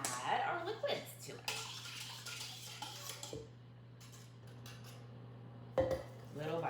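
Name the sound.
pouring liquids into flour and stirring in a bowl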